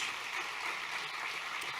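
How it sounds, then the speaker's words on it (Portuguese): A church congregation at a Sunday service applauding, a steady dense patter of many hands clapping at moderate distance, alone with no talk. "Aplauda o Senhor."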